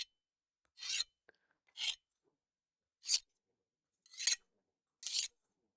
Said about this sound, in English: Now this is a very fine grit stone, so it's kind of this nice soft sound.